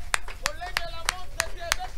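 A church congregation claps hands in worship during an all-night prayer gathering, sharp loud claps in a steady rhythm about three per second, with voices mixed in around them.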